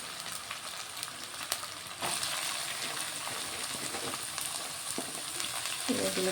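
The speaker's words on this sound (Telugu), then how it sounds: "నేనైతే ఇప్పుడు ఇందులో కట్ చేసి పెట్టుకున్న క్యాబేజీ వేసుకుంటాను" Chopped cabbage fries in a pan with a loud, continuous close sizzle and hiss, with a few sharper crackles and brief stirring noises.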